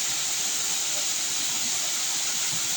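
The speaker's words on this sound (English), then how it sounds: "Welcome to koilamati waterfall." Steady broadband rush of water at Koilamati waterfall, a constant loud roar with no breaks, heard alone without voices.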